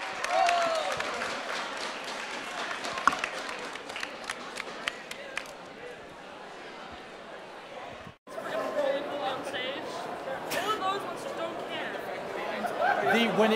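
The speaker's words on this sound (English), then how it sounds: "A round of applause." Crowd applauding at an esports arena as the Challenger Division champions are announced, steady broad clapping and cheering throughout with an announcer's voice over it, a brief cut near the middle.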